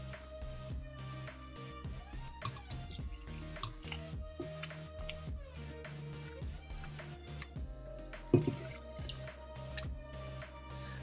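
Water drips and trickles steadily into a pot over background music, with splashy liquid sounds throughout and a brief clatter near the end.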